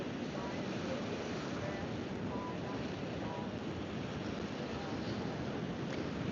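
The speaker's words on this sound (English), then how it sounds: "The undulation of the waves." Ocean waves wash onto a beach at low tide, a constant broad roar of surf mixed with wind buffeting the microphone, steady and unbroken throughout.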